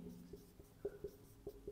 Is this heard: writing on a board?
yes